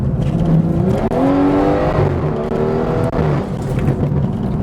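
BMW car with a BMS intake piping upgrade, B58 or B48 engine, revving loudly and downshifting, with gliding engine tones and throttle blips across the whole stretch, close by.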